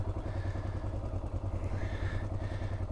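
A Yamaha Ténéré adventure motorcycle riding along the Transamazônica highway, its engine droning steadily and close with a low rumble, mixed with road and wind noise throughout.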